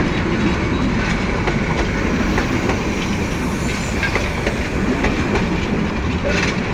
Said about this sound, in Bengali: পনে নয়টার সময় জয়দেবপুর স্টেশন থেকে ছেড়ে যাচ্ছে